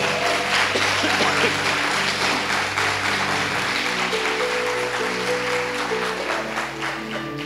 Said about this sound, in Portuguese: Pode aplaudir ao Senhor, porque foi mesmo.